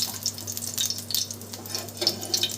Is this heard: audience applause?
no